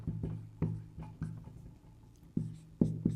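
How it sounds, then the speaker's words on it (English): Pen handwriting on paper, heard as a short series of close, quiet scratching strokes in irregular bursts with brief pauses between words. "I'm going to write that down."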